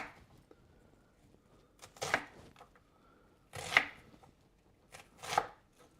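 Onions sliced on a board in a quiet kitchen late at night, three distinct knife-cutting bursts spaced about a second and a half apart, faint and close, with near silence between them.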